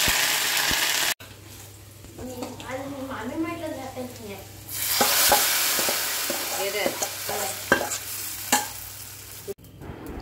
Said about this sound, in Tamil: எண்ணெய் சூடானதுக்கப்புறம் அதில் கடுகு, வெந்தயம், சின்ன வெங்காயம், கருவேப்பிலை இவ்வளோ தான் நம்ம தாளிக்கிறதுக்கு சேர்க்க வேண்டியது.